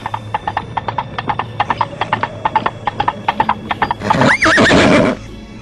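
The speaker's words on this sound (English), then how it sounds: "He rode along the countryside on his favorite horse, Spoonie." Steady hooves clip-clop in a quick rhythm, then a horse lets out a loud, wavering whinny close by.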